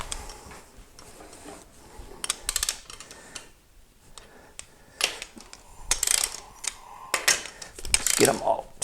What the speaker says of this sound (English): Now we just torque them down.